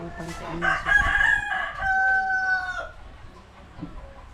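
A rooster crows loudly and close by, one long drawn-out call lasting a few seconds, followed by quieter clucking and faint background sounds.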